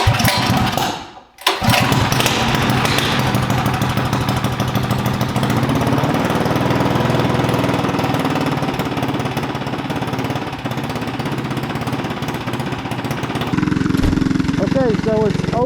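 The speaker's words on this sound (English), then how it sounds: "so we have Jose's engine installed on this bike" A small Predator 212cc engine with an open header roars close by on a test bike, loud and raw, running steadily after a brief stutter at the start, with a few uneven revs near the end.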